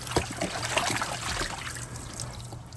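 Rinse water is poured off washed raw chicken, a faint, steady trickle and dribble of liquid running for a few seconds.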